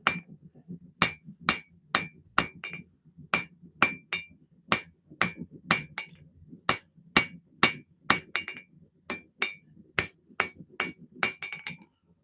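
Hammer blows ring out on metal being forged in a blacksmith shop: about two dozen sharp, close strikes with a bright metallic clink, spaced steadily at roughly half-second to one-second intervals, with no talking.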